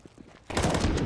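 Gunshots in Counter-Strike 2 during a Spirit vs Vitality BLAST Rivals Hong Kong match: after a quiet moment, a sudden loud burst of rapid gunfire with sharp repeated cracks continues to the end.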